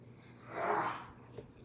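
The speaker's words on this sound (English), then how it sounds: "we're dog sitting and he's having a little cough" A dog gives a single short, breathy cough that sounds like a snort, close and fairly soft in a quiet indoor room.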